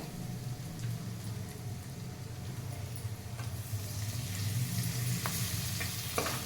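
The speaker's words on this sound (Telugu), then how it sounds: "చూడండి ఇప్పుడు మనం ఇందులోకి టమాటా వేస్తాము" Tomatoes frying in a pan of puffed-rice uggani with a steady soft sizzle and stirring scrapes, close up, holding even throughout with no talking.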